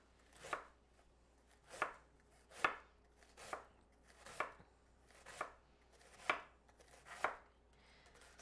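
A knife chops through cabbage on a board in eight evenly spaced, crisp strikes about a second apart, close and quiet with no talk.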